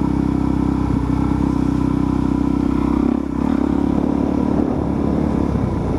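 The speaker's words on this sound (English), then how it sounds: "It's a pretty aggressive speed bump." A motorcycle rolls over an aggressive neighborhood speed bump, its engine droning steadily and close, with a brief dip and a soft jolt as the bike crosses the bump.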